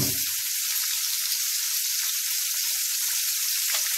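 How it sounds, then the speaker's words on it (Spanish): Sofrito hitting a hot clay cazuela sets off a loud, steady, hissing sizzle that fills the whole stretch without a break, with a brief low thump of the pour right at the start and no voices. "Ahora vamos a poner el refrito, lo vamos a poner en la cazuela de barro,"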